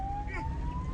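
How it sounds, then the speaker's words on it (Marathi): A siren, switched on with a push button, sounds as a single steady, slowly rising electronic tone, close and loud over a busy background, with voices nearby. "मामाने सायरन लावलाय."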